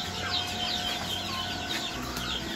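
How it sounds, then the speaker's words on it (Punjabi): A crowd of young FFG breed chicks on a poultry farm cheeps continuously in a dense, overlapping chorus of high chirps, close by and without talk. "ਅੱਜ ਸਾਰੇ ਡਬਲ ਐਫ ਜੀ ਦੇ ਚੂਚੇ ਆਏ ਸੀਗੇ"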